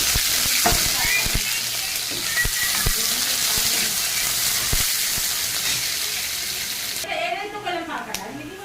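Chopped onions fry in mustard oil in a kadai with a loud, dense sizzle and occasional stirring clacks, then the frying drops away near the end as a voice speaks briefly.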